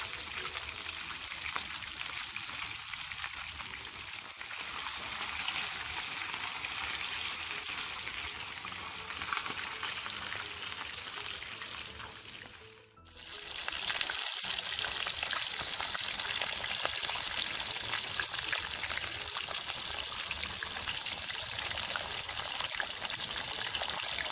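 Continuous crackling sizzle of fish frying in hot oil in a frying pot, steady and close, with a brief dip midway before the bubbling hiss resumes.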